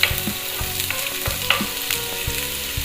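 Chopped garlic and onions frying in a pan, crackling with a steady sizzle while a utensil stirs and scrapes in regular strokes, close and fairly loud.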